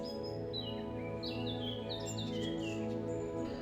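Birds sing and chirp in short, bright phrases over a steady soft musical drone, fairly quiet and continuous, as a meditation backdrop.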